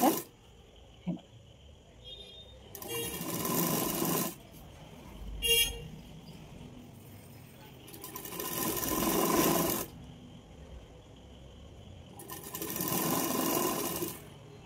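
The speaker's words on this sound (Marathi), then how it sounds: "अशी व्यवस्थित शिलाई मारून घ्यायची." A sewing machine stitches a child's three-colour tricolour frock in three long, steady running bursts separated by pauses, close and fairly loud, with a faint clunk between runs.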